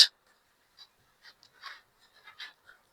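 Pen or pencil writing out a math solution on paper, faint short scratchy strokes in quick separate bursts, close and otherwise quiet.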